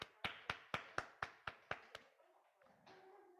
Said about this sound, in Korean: 박수 한번 쳐줄까?